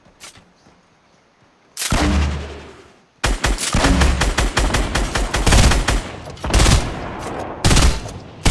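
Sniper gunfire in Fortnite Battle Royale: a loud single shot, then after a pause a sustained barrage of sharp repeated cracks and bursts, close and dense, with no talking.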